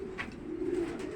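Ghazar pigeons give a soft, low coo, one sustained rolling call nearby, fairly quiet against a faint background.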